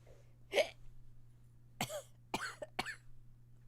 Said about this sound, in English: That was a hiccup, and then there were coughs.